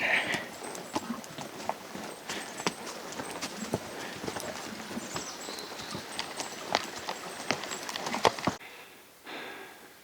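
Gaited mules' hooves clip-clop steadily on a Colorado mountain trail, close and fairly faint, with light rustling and breathing around the irregular footfalls.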